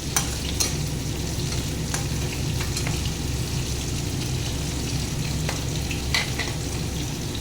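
Onions fry in a pan until reddened, a steady, close sizzle throughout with occasional sharp clicks of stirring.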